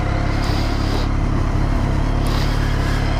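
A 2012 BMW K1300S motorcycle fitted with a Remus exhaust runs steadily nearby, giving a deep, even, continuous engine rumble with no change in pitch.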